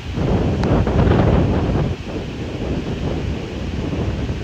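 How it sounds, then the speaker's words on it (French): Strong wind buffets the microphone while surf breaks at Anse Charpentier on Martinique's rough surf coast, a loud continuous roar that eases slightly after the first couple of seconds, with no voices. "je parle fort parce qu'il y a du vent"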